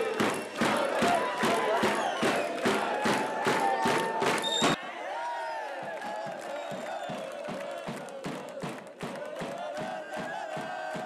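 A crowd of sports fans welcomes returning champions at an outdoor stage, rhythmic clapping and chanting at first, then giving way to sustained cheering and singing voices.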